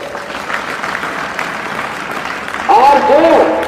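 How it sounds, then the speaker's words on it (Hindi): An audience at a defence academy gathering claps steadily for about three seconds, then the applause swells louder with a few whistle-like tones rising over it near the end. "तालियां बजाओ।"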